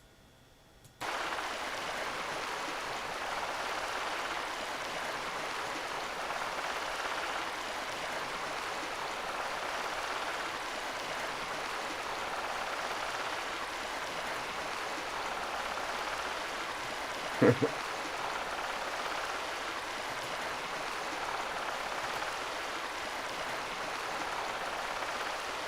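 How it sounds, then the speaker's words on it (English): Loud flowing water rushes steadily in Farming Simulator 22 on a forestry logging map, a constant broadband wash with one brief low thump partway through. "It's hard to hear because the water's so loud."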